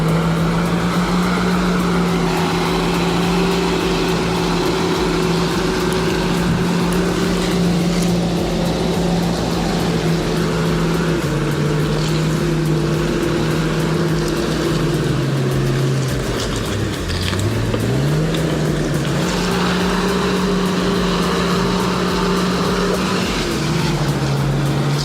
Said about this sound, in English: I'm witnessing the mighty Franklin 405 pulling a massive log up from the ravine